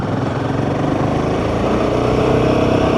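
A Royal Enfield Himalayan 450 single-cylinder motorcycle climbs a hill in third gear from low revs, its engine a steady, loud, close throb that builds slightly, with no talking.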